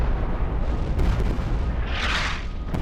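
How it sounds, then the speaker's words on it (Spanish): A shell from the battleship Bismarck's artillery explodes against a turret in a documentary battle scene, heard as a loud, continuous booming rumble with a sharp burst of crackling debris partway through. "El proyectil atraviesa la cubierta y explota contra la torre,"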